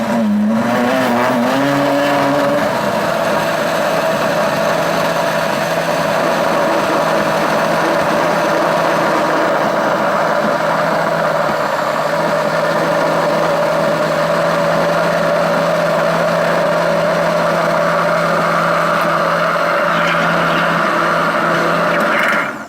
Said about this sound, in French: Et là, on va mixer.